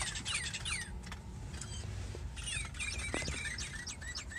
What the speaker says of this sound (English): birds are tweeting.